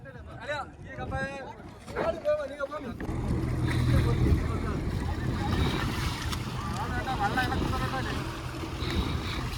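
A boat engine drones steadily at sea while towing a fishing canoe after a deep-sea tuna catch, with wind and waves around it; people talk over the first few seconds.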